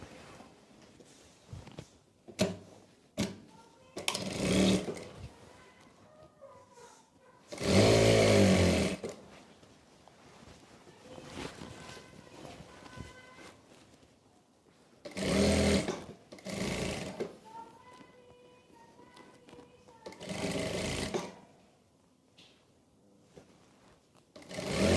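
A sewing machine stitches a salwar belt seam in short bursts, one longer run and several quick stop-start runs separated by quiet handling of the fabric, close and clear.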